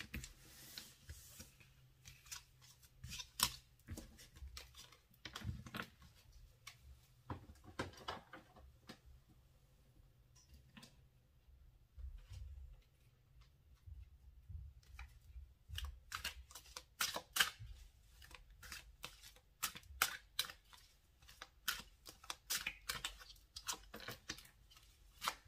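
Tarot cards are shuffled and laid out for a cross spread: quiet, close paper riffles, slaps and slides in irregular bursts, soft and alone with no talking.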